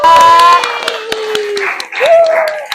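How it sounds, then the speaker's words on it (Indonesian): Classroom students clap for a group of classmates, with scattered sharp claps under loud, sung or chanted young voices that dominate the foreground. "tepuk tangan buat kelompok 2"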